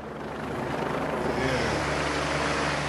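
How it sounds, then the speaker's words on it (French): A rescue helicopter evacuating injured people after flooding, its rotor wash roaring loud and steady and swelling as it draws nearer, with a voice faintly beneath. "Les blessés sont évacués par hélicoptère pour basculer sur l'autre rive."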